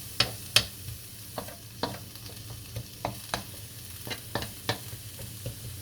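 Ground beef frying in melted butter in a pan on the stove, a low steady sizzle broken by scattered sharp scrapes and clacks of stirring, close and with no talking.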